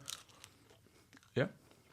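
A pizza crust is bitten and chewed in a podcast-style eating session, with a soft crunch near the start and one loud, close crunchy bite toward the end over quiet background.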